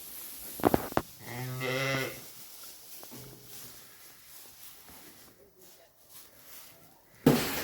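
Sheep bleat inside a barn holding Jacob ewes and ram lambs, one clear harmonic bleat in the first seconds followed by quieter scattered calls and shuffling, with a sharp thump near the end.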